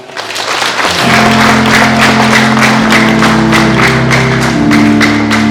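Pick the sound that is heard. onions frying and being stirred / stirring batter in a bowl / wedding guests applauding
wedding guests applauding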